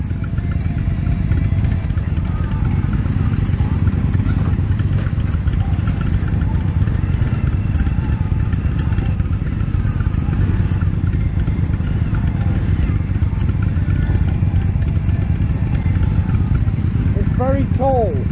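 An Indian FTR1200 motorcycle on a test ride, its engine droning steadily and close throughout with wind rumble, while a rider talks over it.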